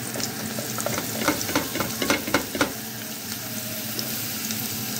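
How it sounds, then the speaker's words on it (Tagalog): Garlic and softened onions sauté in a pan over low heat, a steady close sizzle broken by a short run of scraping stirs in the middle, with no talking. "Once na mag-transparent na yung onion, lagay ko na yung garlic."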